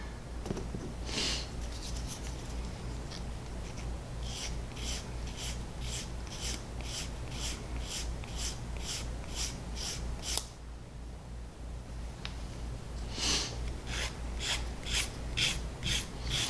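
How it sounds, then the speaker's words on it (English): Hand sanding of glued wooden parts for a shed build, steady rhythmic rasping strokes, close and moderately quiet, with a brief pause partway through before the strokes resume. "I'm going to go ahead and sand these parts down and see if we can get a better fit on everything."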